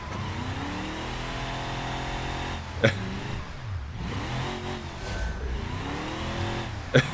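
Car engine in BeamNG.drive during an AI race, revving and shifting pitch as it accelerates and eases off, steady and close, with two sharp clanks from impacts near three and seven seconds.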